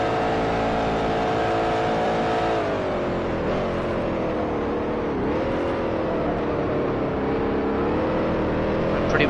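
A vintage Grand Prix race car in the Grand Prix Legends sim racing game holds a loud, steady engine drone that dips and recovers as the driver trail brakes into a corner, then settles again.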